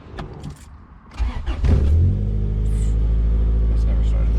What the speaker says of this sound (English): All right, start the car.